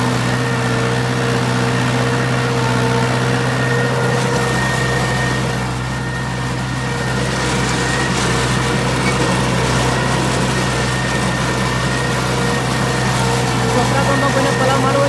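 A tractor engine runs steadily in a farm field, a constant droning hum with a steady low tone throughout, close and loud, with no clear speech over it.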